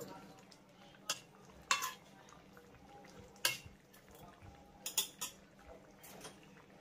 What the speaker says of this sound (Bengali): এবার চিনিটাকে আমি ভালো করে মিশিয়ে নেব